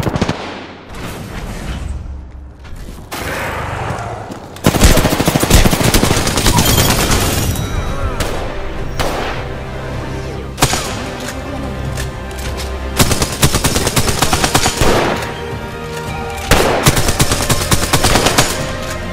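Rapid automatic gunfire in a shooter video game, loud bursts and rattling volleys that stop and start repeatedly, with background music and occasional speech beneath.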